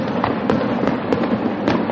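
Fireworks explode at night in a dense, continuous crackle with repeated sharp pops roughly every quarter second, loud and close, with no voices.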